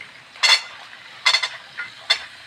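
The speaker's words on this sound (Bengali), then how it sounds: "আমি এখানে দিয়ে দিচ্ছি আলু আলু আর টমাটো, আলু টমাটো পেঁয়াজ মটরশুঁটি। এখন এইগুলোকে আমি ফ্রাই করব।" Potatoes, tomatoes, onion and peas being stirred while frying in a pan, heard as three short, scraping bursts of stirring and sizzle over a quiet, faint background hiss.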